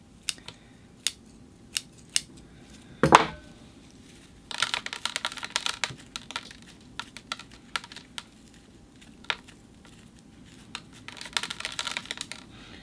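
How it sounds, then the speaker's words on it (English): Scissors snipping the roots of a Ficus religiosa bonsai during repotting: a scattered run of sharp, dry clicks, with one louder cut and bursts of rustling, close by and with no talk. "Just take some of the roots growing down vertically off."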